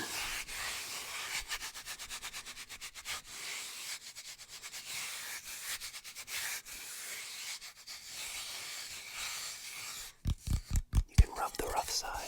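A rough-textured surface of an ASMR trigger object is rubbed close to the microphone in steady scratchy strokes, ending in a few sharper rhythmic scrapes, with soft whispering over it.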